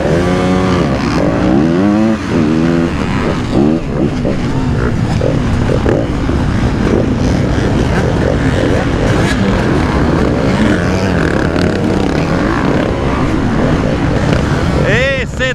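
Motorcycle engines at an FMSQ Round 7 off-road race at Blue Pine in Saint-Michel-des-Saints, droning loudly and continuously throughout, with an excited commentator's voice running over the engine noise.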